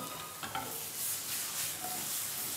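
Root vegetables glazed with honey sizzle in a hot pan while being stirred, giving a soft, steady frying hiss with a few light scrapes, fairly quiet and close.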